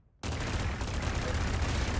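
After a brief quiet moment, a sustained burst of gunfire in the Roblox Arsenal video game, dense, loud and continuous like rapid shots.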